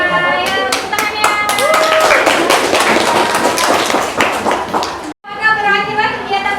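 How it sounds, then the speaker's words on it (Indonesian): A classroom group of students claps hands at the close of a lesson, a dense burst of close, bright applause with voices talking and calling over it. It stops briefly and then resumes. "Ayo, tepuk tangannya."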